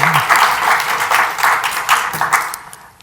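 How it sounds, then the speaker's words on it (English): An audience at a legal talk on access to justice bursts into applause, with loud, close clapping in uneven pulses that taper away near the end. "I'll let you applaud if you agree with this."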